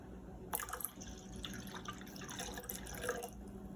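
Warm water pours into a mixing bowl that already holds milk, giving a quiet, close trickle with small splashes and drips throughout.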